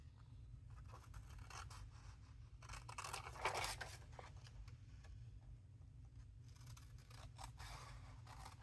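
Scissors cut paper for a red, white and blue handmade journal, giving soft rustling snips and scraping strokes, close and quiet, with a louder burst near the middle over a steady low hum.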